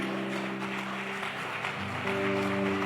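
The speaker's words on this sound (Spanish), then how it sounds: "le damos un fuerte aplauso a nuestro Dios" A church congregation at a birthday celebration gives God a strong round of applause, a soft, continuous patter of many hands under sustained keyboard chords.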